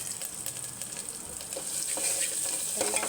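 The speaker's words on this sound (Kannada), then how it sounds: "ಈಗ ಎಣ್ಣೆ ಕಾದಿದೆ. ಜಿಂಜರ್ ಗಾರ್ಲಿಕ್ ಪೇಸ್ಟ್, ಬೆಳ್ಳುಳ್ಳಿ ಹಾಕ್ತಾಯಿದ್ದೀವಿ." Ginger garlic paste and chopped garlic dropped into hot oil, producing a soft, continuous hissing sizzle that grows slightly louder toward the end, with no voices.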